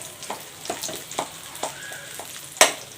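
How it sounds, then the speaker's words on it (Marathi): A dry fruit mixture being sautéed and mashed in oil in a pan over a slow flame makes a soft sizzle broken by repeated scraping pushes of a spoon, with a sharper knock near the end. "एकदम स्लो फ्लेमवर अगदी छान अशी मॅश होते तोपर्यंत आपण याला परतून घेऊ"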